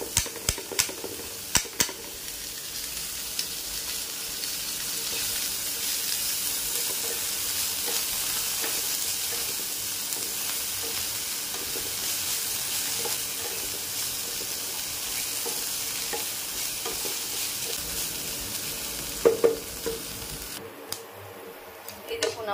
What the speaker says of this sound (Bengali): আমার লাউয়ের খোসা ভাজা রেডি